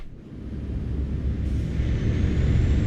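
A truck engine in the video game Euro Truck Simulator 2 drones low and steady, building gradually in loudness, with no talk over it.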